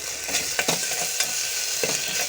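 Ginger garlic paste being stirred in a frying pan, with soft sizzling and a few sharp scraping strokes of the spoon against the pan, close and alone.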